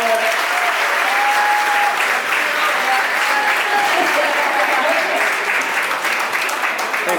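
An audience claps loudly and steadily for about seven seconds at a blindfold cutting competition in Cuba, a dense, continuous round of applause with faint voices underneath.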